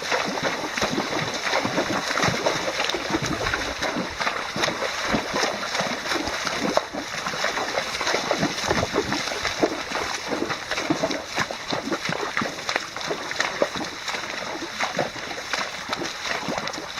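Several horses wade and splash through a creek on a trail ride at McIntosh Reserve, a steady churn of sloshing water and hoof splatter close by, continuous with no talk.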